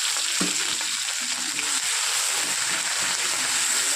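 Onion, ginger and garlic paste hits hot mustard oil seasoned with five-spice while cooking a lata fish curry, giving a steady loud broadband sizzle and frying crackle throughout with faint stirring scrapes.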